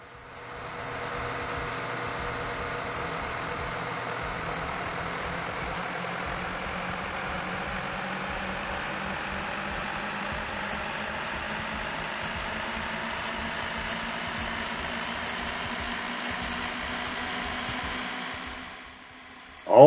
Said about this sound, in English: Once the pumps are running, each will warm up and progress through their ramp profile.